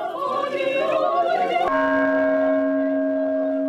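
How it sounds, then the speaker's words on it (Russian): A newly cast church bell at a London cathedral is struck once about halfway through, its sustained ringing tone decaying alone after a burst of overlapping earlier ringing. "Первым в недавно отлитый колокол бьет сам патриарх Кирилл."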